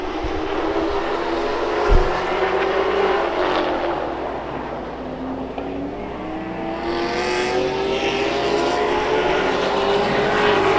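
Race cars roaring around a track, a steady loud engine drone with rising and falling pitch as the cars pass, sounding close and continuous without any talking.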